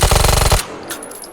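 A rapid full-auto burst from a modular Glock pistol in a video game, a dense string of close, loud shots for about half a second that cuts off abruptly into quiet tail.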